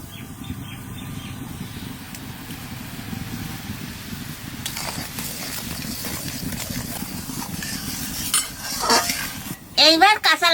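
A utensil stirs and scrapes in a pan of hilsa fish curry with mustard paste cooking over heat, a continuous soft sizzle and clatter with metal clinks near the end, up close.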